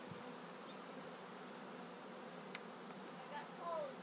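Honeybees from a newly installed bee package drone in a steady, close buzz that fills the whole moment, with a few louder passes of individual bees near the end.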